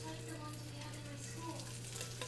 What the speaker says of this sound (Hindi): तवे के ऊपर हमने थोड़ा सा बटर रखना है।